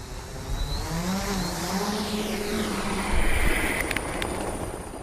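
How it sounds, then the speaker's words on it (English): A small camera helicopter flies low over the Serengeti plains, a continuous droning whine of rotor and engine that shifts slowly in pitch as it passes, loud and steady throughout. "this small helicopter, that we were able to deploy and take our cameras just 20, 30 meters above the ground"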